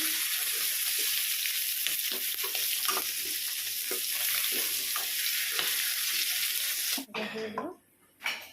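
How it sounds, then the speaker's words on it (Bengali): Prawns fry in oil in a wok with a dense, steady sizzle that runs close and loud before it cuts off abruptly near the end, and faint scraping sounds come through the hiss. "বাকি মাছগুলো ভেজে নেব।"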